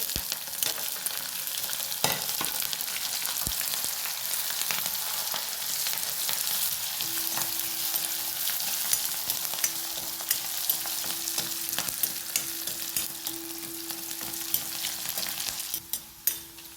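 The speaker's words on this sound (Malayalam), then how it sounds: "ഇനി ഇഞ്ചിയും വെളുത്തുള്ളിയും പച്ചമുളകും നമുക്ക് നല്ലോണം വഴറ്റാം" Ginger, garlic and green chillies sautéing in a pan with curry leaves, a close, steady sizzle and crackle with frequent scraping stirs throughout, no voices.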